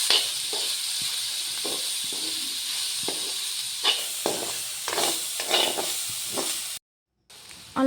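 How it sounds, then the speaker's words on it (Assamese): Taro stems with chickpeas, cumin powder, turmeric and salt fry in a pan, giving a hissing, steamy sizzle with intermittent stirring scrapes and a brief dropout into silence near the end. "এইখিনি দিয়াৰ পিছত ভালদৰে ভাজি লৈছোঁ"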